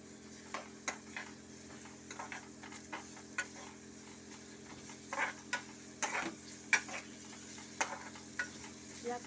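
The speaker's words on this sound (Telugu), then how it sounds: "ఇలా కలుపుకోవాలి." Chicken fry being stirred in a pan, with faint sizzling under scattered soft scrapes and taps of the spoon against the pan at an uneven rhythm, close and quiet.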